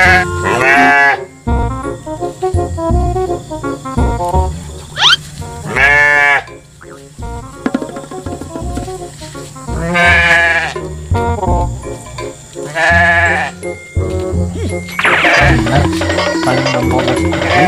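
Sheep bleat loudly and repeatedly at close range in a series of long wavering calls, with people talking between and over them.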